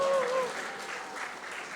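Brief audience applause in a summer church retreat gathering, a steady clatter of clapping at moderate distance with a voice briefly audible at the start.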